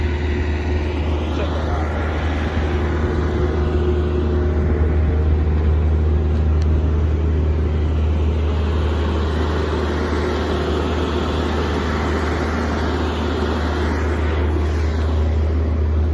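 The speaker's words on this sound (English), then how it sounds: "I'm in a Mack truck today, man." Steady low diesel drone of a Mack truck engine idling or running, heard from inside the cab, loud and continuous throughout.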